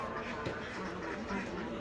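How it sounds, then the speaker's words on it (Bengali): Ducks quack at a farm where egg-laying ducks are kept and fed in the morning. The calls are repeated and fairly close, set against a dense, steady background din. "একটা হাঁস আমার থালার মধ্যে চলে গেছে"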